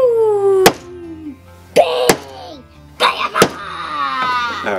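Sharp hammer whacks on nails going into a wooden toy airplane, several loud single strikes spaced apart, with a person talking between and around the blows.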